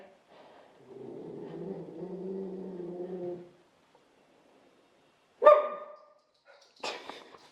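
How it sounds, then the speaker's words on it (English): A dog whines softly for a few seconds, then after a pause lets out two sharp, loud barks, one close after the other. "So typical, it barks after it jumps off the fence."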